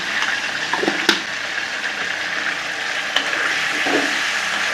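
Fish sizzles and crackles in hot oil, a steady hiss with a couple of sharp pops and light stirring.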